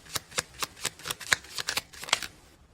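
Tarot cards are shuffled in about a dozen quick riffling bursts at a steady, slightly uneven rhythm, close and crisp, with no talking, trailing off into quiet at the end.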